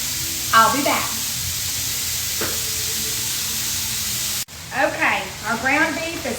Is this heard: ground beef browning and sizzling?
yes